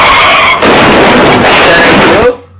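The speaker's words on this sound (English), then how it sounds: "That deserved the car crash." A loud car crash sound effect plays on a talk radio show, with a burst of screeching, crunching noise that holds for about two seconds and then cuts off abruptly.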